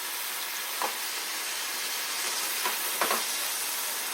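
Beef cooking in oil in a hot pan, a continuous loud sizzle and hiss with a few brief spatters or stirring scrapes, no one speaking.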